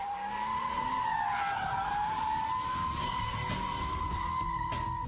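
A car spinning donuts on tarmac at full lock and high revs, with a loud continuous tire squeal wavering in pitch over the engine noise for several seconds.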